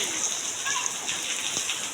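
Steady rain falls outdoors while children play in it, a dense, even hiss of drops filling the scene, with a few faint voices at the edges.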